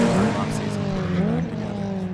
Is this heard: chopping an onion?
no